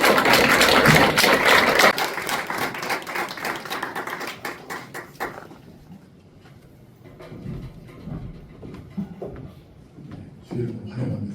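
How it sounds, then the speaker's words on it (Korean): Audience applause welcoming a missionary guest speaker at a church gathering in Osaka. A dense, loud burst of clapping fills the first five seconds, then quickly fades into quieter room noise with scattered faint claps and movement. "박수로 환영하겠습니다."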